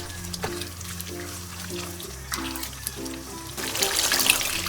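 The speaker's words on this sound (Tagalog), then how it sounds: "Maglagay na tayo ng tamang dami ng tubig" Water is poured into a pot of simmering Filipino beef caldereta, a gurgling splash swelling toward the end over steady background music.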